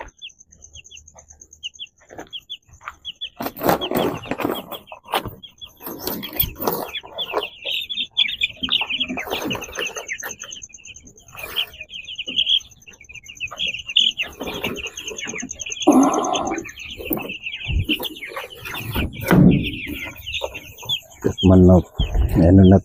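Eight-day-old broiler chickens cluck and squawk on and off, fairly close, while a person talks intermittently among them and a high steady whine runs underneath.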